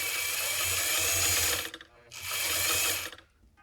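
Vintage White sewing machine spinning to wind a bobbin, a steady whirring mechanical run that stops briefly, then spins up again for a second burst.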